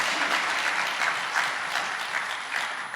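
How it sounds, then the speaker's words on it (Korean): A church congregation applauds its senior pastor during a leaders' seminar, a dense, even wash of many hands clapping that holds steady throughout, fairly soft and slightly distant. "박수 한번 치실래요? 네, 박수 한번."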